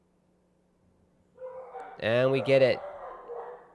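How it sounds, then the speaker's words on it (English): Dogs bark and yip indoors during a live watchalong of a DFB Pokal football match, a short burst of excited, pitch-bending barks rising over a voice. "The dogs are going crazy."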